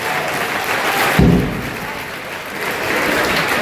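Loud clapping from an audience at a school annual sports event fills the whole clip as a dense, continuous roar, with a heavy thump about a third of the way in.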